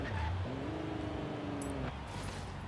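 Engine note of a car driven in Forza Horizon 3, a steady droning tone that shifts pitch partway through, close and loud over continuous road rumble, with a short higher squeal near the end.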